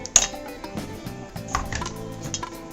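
Two eggs and a vegetable puree go into a mixing bowl, making sharp clinks and taps followed by softer knocks and scrapes, close and fairly quiet, with no voices.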